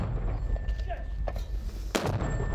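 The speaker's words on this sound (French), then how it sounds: "leurs camarades déclenchent un tir d'artillerie" Military artillery fire launching illuminating shells, heard as several dull booms and thumps, one sharper crack near the end, mixed with background noise and speech.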